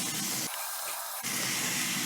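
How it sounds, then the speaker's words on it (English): Beef frying in a hot pan gives a steady broadband sizzle that briefly drops away for a moment, then returns just as strong, close and loud with no talking. "We have to listen for the sizzle."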